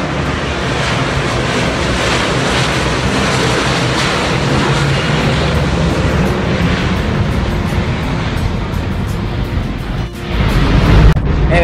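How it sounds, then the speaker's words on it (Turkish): A twin-engine Airbus A330 airliner passes overhead near Istanbul Atatürk Airport, heard from the FlyInn shopping mall as a loud, steady broadband jet roar with a wind-like rush that holds for several seconds before dipping briefly. "demin gördüğünüz bir Airbus A330 uçağıydı"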